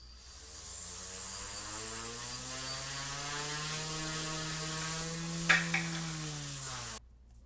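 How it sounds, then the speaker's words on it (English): An OMP RC helicopter's electric motor spools up, its whine rising steadily in pitch over several seconds, with a brief click near the end before it cuts off abruptly. "And if I spool the heli up, let me just hold it, we'll see that battery voltage drop as the motor."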